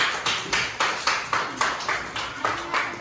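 A group of schoolchildren claps together in a steady rhythm of about eleven loud, close, evenly spaced claps, with no talk.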